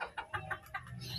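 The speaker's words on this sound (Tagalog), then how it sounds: "Habang nagluluto nagpapakain ng manok." Chickens cluck in short, quick bursts close by while being fed, several distinct clucks over about a second with no talk.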